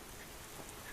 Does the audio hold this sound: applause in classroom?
no